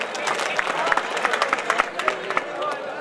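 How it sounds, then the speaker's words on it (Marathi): Audience at a student festival event applauding together, a dense wash of crowd clapping with sharp individual claps standing out, steady and fairly close for a few seconds. "त्या सर्व विद्यार्थ्यांसाठी आपण जोरदार टाळ्या वाजवावी अशी आपल्याला विनंती करतो"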